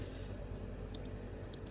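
Buttons on the side of a game controller clicked while playing a train station video game, a few sharp faint clicks in two quick pairs over a low steady background hum.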